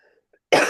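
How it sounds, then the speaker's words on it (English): A single sharp cough, loud and close, following near silence with faint background sound. "Excuse me, coughing."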